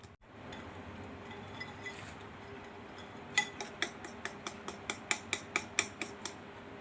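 A whisk taps rhythmically against a bowl while cake batter is beaten for a chocolate cake, giving a steady series of light clicks over a soft background hum.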